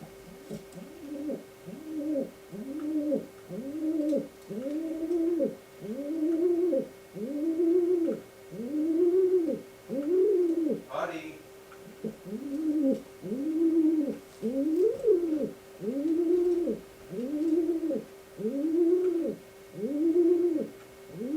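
A pet white racing pigeon coos indoors, close and clear, in a long unbroken series of soft rolling coos at a steady rhythm, with a brief high squeak partway through.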